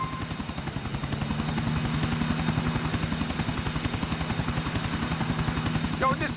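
Helicopter in the video game GTA 4, a loud, steady rotor thump with rapid rhythmic chopping and an engine whine, close by throughout, ending with a brief clatter.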